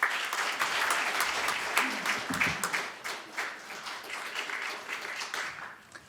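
An audience at a Buddhist spring ceremony held at the Korean National Assembly gives steady, dense applause that gradually thins and fades over several seconds.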